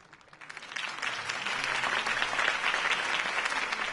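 A crowd breaks into applause that swells quickly and holds steady, dense clapping from many hands filling the space.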